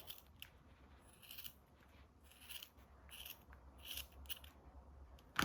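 Scissors snipping through the hair of a Czech marionette doll, a series of faint, crisp cuts in irregular clusters, close up in a quiet room, ending with one louder snip.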